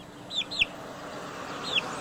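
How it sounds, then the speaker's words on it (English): A pet chicken gives three short, high clucks spaced about a second apart, close and fairly soft against a quiet room background. "Now that's a relaxed chicken."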